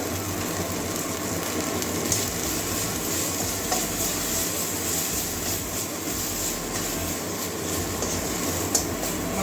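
Cumin powder with chopped ginger frying in a pan as a dal dish is cooked, a steady dense sizzle with constant stirring scrapes running throughout, no voices.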